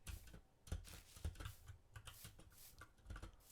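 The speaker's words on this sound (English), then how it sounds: "My keyboard's probably loud as ever" A computer keyboard clatters with rapid, uneven bursts of loud clicky keystrokes, close up and alone, with brief pauses between flurries of typing.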